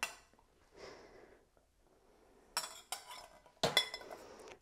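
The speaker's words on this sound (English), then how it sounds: "And the noise of this pot with a spoon in it." A spoon rattles and clinks against the inside of a metal pot, held out as a noise for a service dog during public access training. Quiet stirring scrapes are followed by several bright, sharp bursts of clanking close by.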